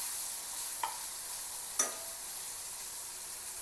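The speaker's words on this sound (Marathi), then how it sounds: "कापलेली कोथिंबीर, मॅगी मसाला परतून घ्यायचं" Chopped coriander and Maggi masala sautéed in a pan, a steady soft sizzle with a couple of faint stirring scrapes and no voices.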